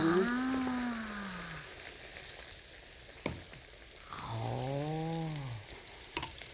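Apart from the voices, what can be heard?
vegetables stir-frying in a frying pan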